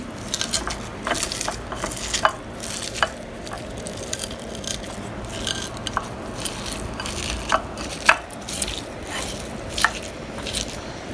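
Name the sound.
mashing onions with salt and soaked red chilies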